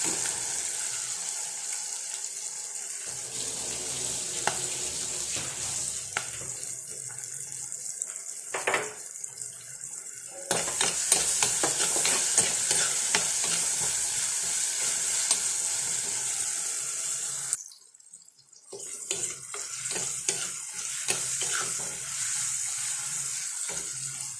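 Mackerel curry with half a tomato frying in oil in a home kitchen, a steady close sizzle with scraping stirring strokes and a brief interruption near the end, no one speaking.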